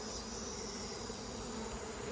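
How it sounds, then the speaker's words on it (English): Swarm of honeybees buzzing around a beekeeper in a smoky apiary, a dense, continuous droning hum from many insects close by, steady and fairly quiet. "Look at all these bees."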